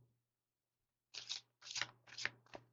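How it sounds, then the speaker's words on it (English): A deck of cards is shuffled after a second of near silence: four quick riffling bursts in steady rhythm, close and crisp, with a faint low hum underneath and no talk. "I'm going to shuffle. We're going to get 3 cards."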